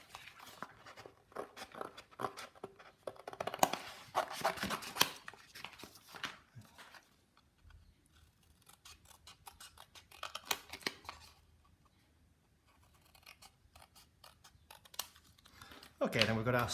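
Scissors cut paper for a tessellation, making close, crisp snips in bursts with quiet gaps between them, while a voice talks over parts of the cutting.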